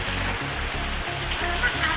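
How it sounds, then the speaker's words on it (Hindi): Steady rain hisses continuously over a surface, dense and close, with a low rhythmic thumping running underneath throughout. "यहाँ पर धूप में भी बारिश होती है।"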